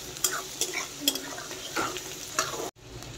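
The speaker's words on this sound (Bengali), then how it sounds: "এখানে আমি হালকা করে শুধু ছোলার ডালটা কিন্তু একটু ভাজবো" Chana dal lightly frying in a pan for a jackfruit dish, a soft steady sizzle with several sharp utensil scrapes and clinks as it is stirred, ending abruptly.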